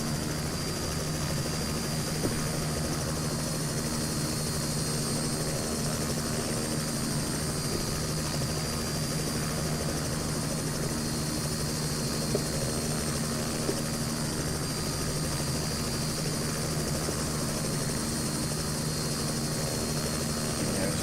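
A helicopter's engine and rotor drone steadily and loudly, unbroken throughout, in a flight simulator game at an airport with boarding gates and a tram.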